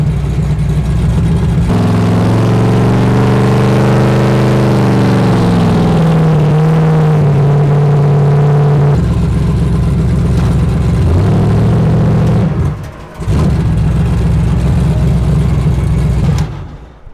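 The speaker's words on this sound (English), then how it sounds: "Running out of gas, I can hear the pump going crazy." BMW M3 engine running low on fuel, a loud close engine drone that rises and falls through revs, with a brief drop and sputter near the end, no speech over it.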